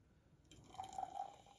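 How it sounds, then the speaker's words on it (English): Pepsi soda is poured into small cups, a faint short trickle of liquid that rises briefly to a soft gurgling pour near the middle and then tapers off in a quiet room. "pour a little into each"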